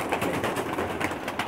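Pakistani breeder pigeons coo in a soft, steady, close murmur, several birds layered together, with no talk.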